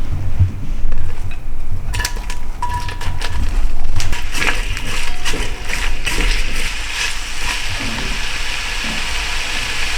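Sliced onions dropped into hot sunflower oil for a pork vindaloo, giving a steady loud crackle and sizzle with bursts of popping spatter throughout.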